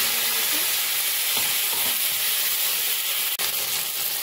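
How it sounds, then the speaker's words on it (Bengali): Jujubes frying in hot oil with five-spice and dried chillies, a steady loud sizzle filling the whole stretch, with faint stirring scrapes and a brief clink. "তেলে একটু নাড়াচাড়া করে নেব"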